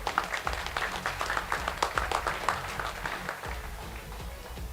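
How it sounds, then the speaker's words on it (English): At a powerlifting press conference an audience claps for a few seconds, a dense, close patter of many hands that thins out and fades near the end. "one quick applause for Marvin."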